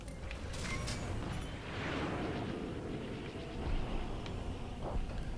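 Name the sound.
missiles fired at Y-wings, Star Wars Squadrons video game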